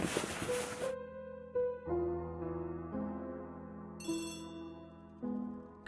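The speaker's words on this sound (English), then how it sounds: "Okay, phone is ringing." A telephone rings in an Agatha Christie mystery video game, a series of electronic ringtone tones with sustained pitched notes and short chimes, clear and steady with no talk.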